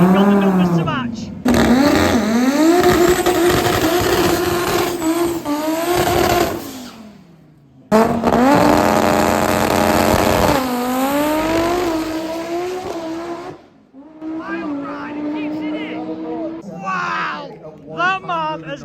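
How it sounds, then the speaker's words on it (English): A 5-cylinder drag car, a four-wheel-drive S2 coupe, screams loudly through long revving passes with rising and falling engine pitch, a brief cut near the middle, then fading into quieter crowd noise at the end. "This is the OG 5-cylinder engine in a drag car"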